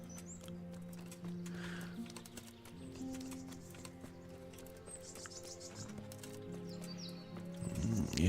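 Horse hooves clip-clopping in Kingdom Come: Deliverance as a summoned mount arrives, steady footfalls under a constant game ambience and music bed, growing louder near the end as the horse draws close.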